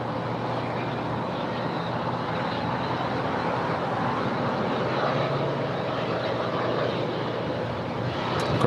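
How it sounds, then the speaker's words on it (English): A KLM Boeing 777-200ER arriving from Amsterdam at LAX, a steady broadband jet roar holding at constant loudness throughout, with no voices. "the 777-200ER coming in from Amsterdam, flight 603, the second KLM flight of the day"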